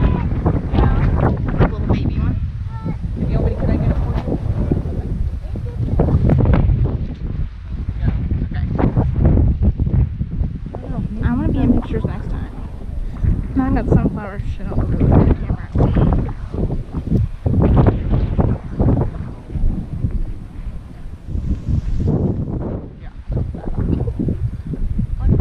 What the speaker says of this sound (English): Kind of windy.